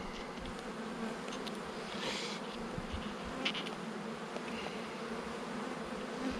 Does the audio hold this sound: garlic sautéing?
no